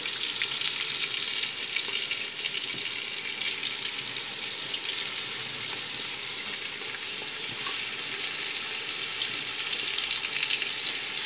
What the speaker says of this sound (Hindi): अब उसके अंदर मैंने 1 चिकन लिया वो डालूंगा